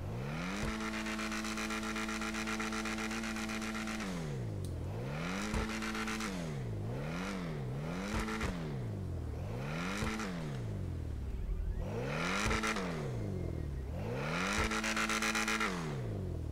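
An Ocelot Jugular sports car engine in GTA Online revs hard again and again, pitch climbing and dropping in repeated loud sweeps with brief gear-shift dips, steady and close.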